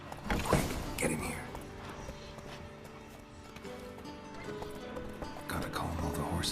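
Horses in The Witcher 3 stand restless in a stable, hooves clopping and shuffling with an occasional whinny, fairly quiet beneath a voice speaking.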